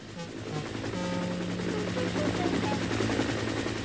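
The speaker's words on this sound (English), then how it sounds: "The noisiest of all was a helicopter." A helicopter's steady thudding rotor drone fills the scene, growing slightly louder as it passes close overhead.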